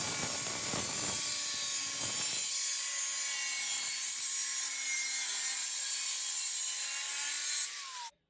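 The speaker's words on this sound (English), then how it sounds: "Why am I cutting this with the cutting wheel instead of with a pair of like tin snips or something?" A cutting wheel slicing through rusty rocker panel metal on a 1969 Plymouth Road Runner during restoration, a loud continuous high-pitched whine and grinding screech that holds steady for several seconds before cutting off abruptly.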